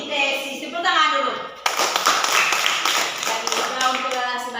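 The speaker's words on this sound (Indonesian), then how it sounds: "fotosintesis. Tepuk tangan dulu." Schoolchildren in a classroom break into a burst of rhythmic hand clapping, loud and close, over a teacher's voice and children chattering.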